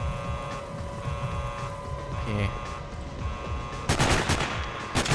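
Gunfire in the video game Sniper Ghost Warrior: a sharp burst of rapid shots comes late after a stretch of low game ambience, with someone talking over it.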